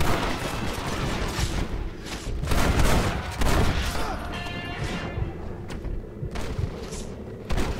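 Gunfire in the Western game Red Dead Redemption, sharp shots cracking over a dense, noisy mix of gameplay effects and music, with a couple of louder bursts standing out; no talk over it.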